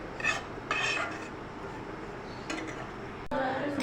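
A spoon scrapes and stirs maida (flour) roasting in a pan over a low flame, with short, repeated metallic scraping strokes and brief pauses between them, close by.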